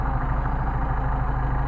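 A Mercedes 190SL engine fitted with Solex carburetors idles steadily nearby, its low, even rumble holding a constant rhythm with no talk over it.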